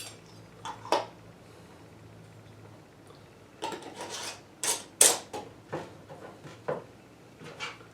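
Metal lids clink and scrape onto glass jars of pineapple moonshine in a quiet room, a handful of brief, separate clicks and taps with short pauses between them.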